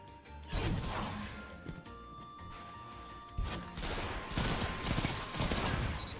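Rapid automatic weapon fire and impacts from a Destiny 2 firefight run through the whole stretch, loud and dense, with repeated bursts and crashes layered over game music and effects.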